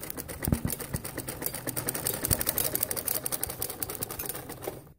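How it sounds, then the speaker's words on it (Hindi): Sewing machine stitching a sharara garment, a fast steady run of close mechanical needle clatter for about five seconds before stopping abruptly. "अब मैं इसको सिलाई लगाऊंगी।"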